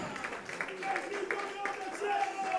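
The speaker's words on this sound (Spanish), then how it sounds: "Dale palmas, Señor" A church congregation claps in rhythm during a sermon, a steady, moderately loud patter with voices rising over it.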